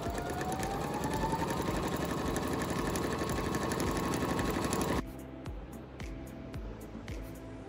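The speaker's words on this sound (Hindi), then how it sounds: "तो सबसे पहले हम लोग इसके ऊपर सिंपल स्टिचिंग करके देख लेते हैं।" A Singer Bouquet 9700 sewing machine runs a simple straight stitch with a fast, steady mechanical whirr up close. It then slows to a softer run of separate stitch clicks before stopping.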